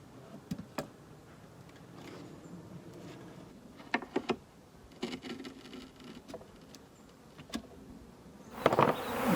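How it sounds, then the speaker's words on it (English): Honeybees buzzing and milling around an opened hive during a robbing frenzy, scattered ticks and patters of insects striking nearby surfaces, with a louder rustling burst at the end; no talking. "Apparently, I've kicked off a robbing scenario. I've got bees everywhere."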